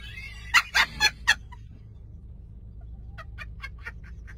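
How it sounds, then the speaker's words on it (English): A pet rooster chasing a person lets out a burst of four loud, harsh gobbling calls close by, then after a pause a softer series of short repeated clucks, with no talk. "here's a clip of my rooster chasing my sister."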